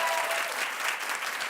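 A studio audience claps steadily and loudly, a dense wash of applause with no break, lasting under two seconds.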